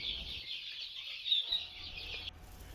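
Continuous high-pitched peeping from a group of white guinea fowl chicks, steady and close, with a faint low rumble in the background.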